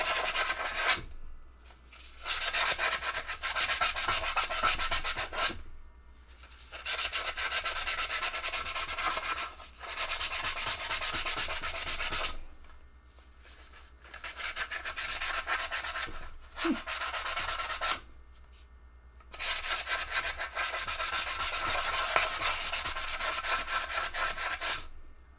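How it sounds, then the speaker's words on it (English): Sandpaper rubs hard against a Japanese foil ball in long, steady scratchy strokes, close and loud, with several brief pauses between bursts and no voices. "Needed some fresh sandpaper."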